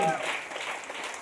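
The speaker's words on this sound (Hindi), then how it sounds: "राजेश भैया के लिए जोरदार ताली होनी चाहिए" A crowd at a training session applauds for Rajesh, a brief, fairly quiet wash of clapping with a voice briefly over it at the start.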